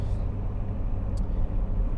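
A Toyota 3S-GTE engine in an MR2 rumbles steadily at close range, deep and throaty, with a brief faint high hiss partway through.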